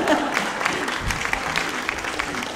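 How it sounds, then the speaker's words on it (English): A live audience at a cooking show claps in a brief burst of applause that stays fairly loud and dense, then thins slightly toward the end. "Give her a round of applause for Annie Edith."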